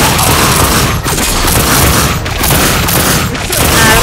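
Gunfire in the video game The Darkness II roars as a loud, dense, continuous barrage of shots and booms, with brief dips in the noise roughly once a second.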